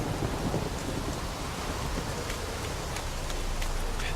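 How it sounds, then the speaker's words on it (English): Rain and a thunderstorm in the video game The Witcher 3, a dense, loud, continuous downpour with deep rolling thunder rumbling underneath throughout, no voices over it. "And now it's raining properly in a proper thunderstorm."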